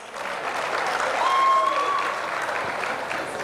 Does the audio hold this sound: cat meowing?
no